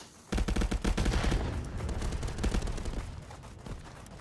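Rapid automatic gunfire in the Contractors VR shooter on a Quest 2 headset breaks out suddenly and stays loud, with dense overlapping bursts that thin out toward the end.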